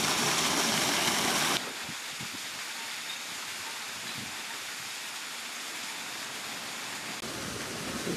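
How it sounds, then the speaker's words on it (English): A waterfall in a garden area on Bora Bora, a steady broadband rush of falling water that is loud at first, then drops to a softer continuous roar that carries on alone. "Waterfall."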